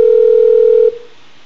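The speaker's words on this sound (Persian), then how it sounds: "اجازه بدید من باز تماس بگیرم." A telephone dial tone sounds loud and clear as a single steady tone lasting under a second, then cuts off abruptly, leaving faint line hiss while a call is being redialed.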